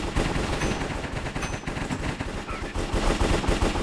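Automatic weapons firing in a Call of Duty mod for Minecraft, rapid sustained bursts of close, loud gunfire with barely a gap between shots, running unbroken from start to finish with no talk over it.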